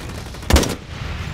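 A single sharp sniper rifle shot in the video game Blacklight Retribution cracks out loudly with a booming low thump, then quickly decays into a brief echo.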